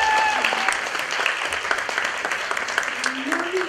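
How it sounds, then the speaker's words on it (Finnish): Steady applause from a crowd at a drag show, dense clapping that fills the whole stretch, with some cheering or voices mixed in. "Eli nyt aplodit Biancalle!"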